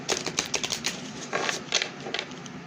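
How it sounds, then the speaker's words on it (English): Rapid riffling bursts of playing cards being shuffled up close, several quick flurries in a row with short pauses. "2 more shuffles"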